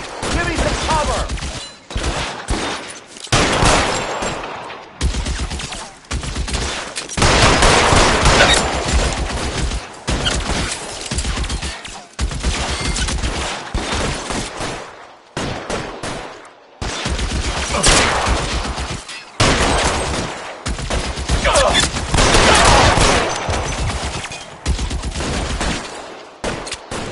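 Video game gunfire from L.A. Noire crackles in dense, repeated bursts of rapid shots separated by brief pauses, loud and sustained, with occasional voices mixed in.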